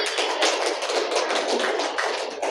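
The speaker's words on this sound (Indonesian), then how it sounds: "Ya, tepuk tangan lagi." A primary school class claps together in a classroom, dense, steady applause of many hands that keeps an even rhythm and fades slightly toward the end.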